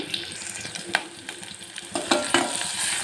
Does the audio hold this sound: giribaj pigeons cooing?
no